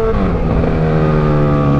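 A Honda CB 1000 motorcycle revs hard and accelerates with its exhaust pipe, its engine note climbing and holding loud and close for a short burst with no talking.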